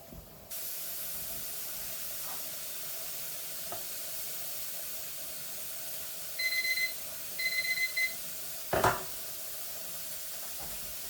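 A pressure canner loaded with home-canned pork stock vents a steady, continuous hiss of steam close by, joined near the end by a few short electronic timer beeps and a brief clatter.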